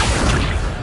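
Accio summoning spell cast in the video game Hogwarts Legacy, a short, loud rushing whoosh with a thudding low end that tapers off within a second.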